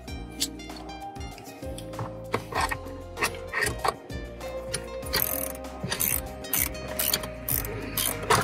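Carriage bolts are tightened by hand with a ratchet on a DIY accessory bar for a Jeep Commander. Close, uneven bursts of ratchet clicking and metallic clanks sound with short pauses between runs.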